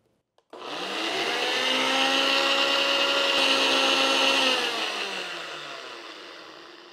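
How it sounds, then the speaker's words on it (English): A blender whirs steadily at high speed for several seconds after a sudden start, loud and close, then gradually winds down in pitch. "place the top on the blender and blend this for a few minutes"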